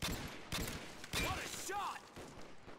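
Gunfire in a custom zombies video game, several sharp gunshots in quick bursts with ringing metallic headshot effects, while a player talks over the action.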